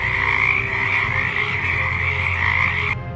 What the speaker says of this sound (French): Des grenouilles jaillirent des eaux et envahirent chaque maison.